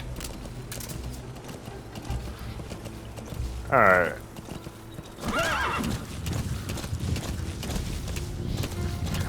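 Horse hooves clip-clop in Metal Gear Solid 5, joined by a loud neigh near four seconds and another whinny around five to six seconds, all under a steady game soundscape with someone briefly talking.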